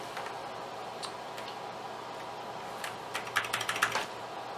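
Typing on an Amiga 1000 keyboard, scattered faint key clicks that gather into a quick cluster of taps near the end, over a low steady hum.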